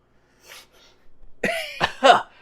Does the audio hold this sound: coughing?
yes